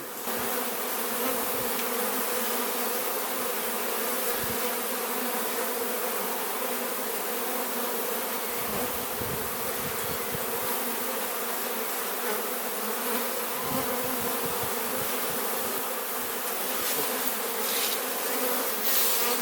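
Dense, steady buzzing of honeybees crowding full hives, loud and continuous at close range with no voices.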